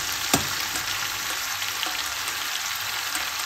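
Large chunks of beef frying in a hot pan for Filipino beef mechado give a steady, even sizzle with a single brief clatter near the start.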